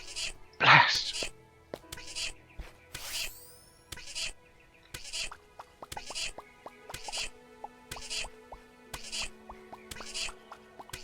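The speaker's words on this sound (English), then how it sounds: "That is the sound of a very unhappy kitty." Unhappy poisoned cat crying in the video game Starbound, a series of short repeated mewling whimpers at a steady pace over a quiet game background, with a louder burst near the start.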